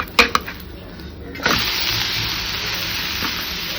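Onion uttappa sizzling and frying on a hot pan, a few clattering knocks as it is flipped followed by a steady, loud sizzle that continues close up without talk.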